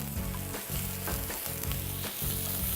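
Minced garlic and button mushrooms frying in a pan, a continuous close sizzle with rhythmic stirring scrapes.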